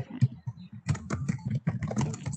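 Steady, rapid typing on a computer keyboard, a continuous patter of close key clicks with no speech.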